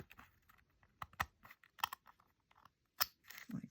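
Scissors snip around a paper collage piece, with soft, irregular crisp cuts close by and quiet pauses between them, and no talking.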